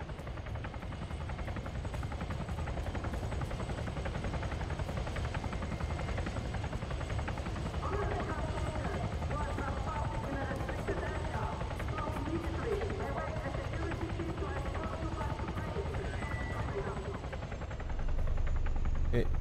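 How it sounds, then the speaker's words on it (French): A helicopter flies in Arma 3, a military video game, as a constant, loud rotor drone with a fast chop, persisting under voices speaking and swelling louder near the end. "There's a helo."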